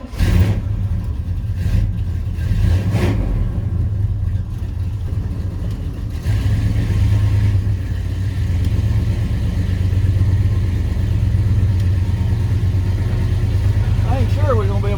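An old truck engine runs steadily while driving and pulling a homemade trailer, a loud, continuous low rumble that holds throughout with a brief shift in tone partway, close and prominent.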